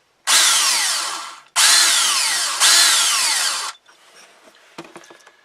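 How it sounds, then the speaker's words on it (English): A power drill countersinks a hole in a knife bolster, running in three loud whining bursts of about a second each, followed by quiet clicks and handling noises. "I'm just gonna countersink this just a little bit more."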